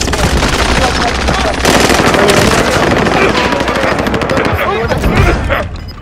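Sustained video game gunfire with rapid machine-gun bursts and overlapping shots, loud and continuous with dense rattling throughout, mixed with other battle noise and fading slightly at the end.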